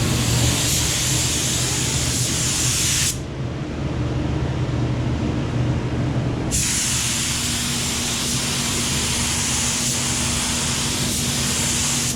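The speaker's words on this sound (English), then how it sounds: "I'll try to get some shots of actually spraying the color on there" Steady broadband hiss of a spray gun applying color-matched car paint over chrome on a Duramax truck, loud and continuous, briefly dropping in pitch midway before resuming at full strength.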